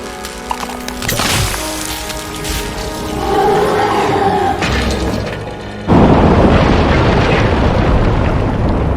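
A building destroyed in an explosion in RoboCop: Rogue City, loud booming blasts and crashing debris that build into a sustained heavy roar, then a sharp jump to a denser rumbling crash near the end.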